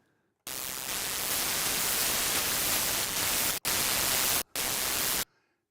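An FM synthesizer tone from the Nambu iOS app, with operator A routed into C, comes out as a harsh, hissing, noise-like sustained sound. It holds for about five seconds, cuts out briefly twice, then stops abruptly.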